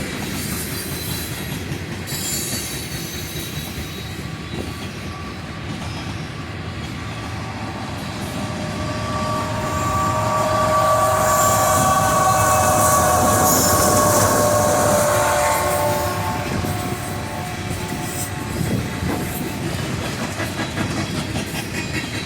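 A long freight train with front engines and a mid-train DPU locomotive rolls steadily past in Folkston, Georgia, its rumble and clattering wheels swelling to a loud peak with squealing metal before easing off.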